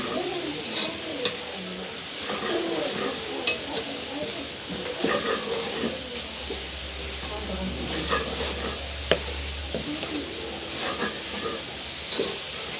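Carrot and cabbage sautéing in a pan for upma, a gentle sizzle with intermittent spoon scrapes and clinks as they are stirred, outdoors with faint background sounds.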